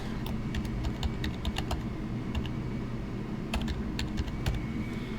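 Fingers typing a file name on a computer keyboard, brisk irregular key clicks in two quick bursts over a low background hum, close and fairly quiet.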